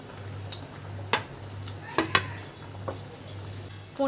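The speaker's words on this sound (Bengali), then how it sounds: "এবারে ভেজে রাখা পনিরগুলো অ্যাড করে দিতে হবে।" Fried paneer pieces are added to mixed vegetables cooking in a gravy over a medium flame, with several sharp utensil clinks and scrapes against the pan over a steady low burner hum.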